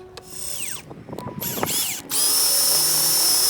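A power drill drives screws to fix electrical conduit tightly to a wall during an outdoor photocell light installation, with short whining revs and stops, then a loud sustained run close by.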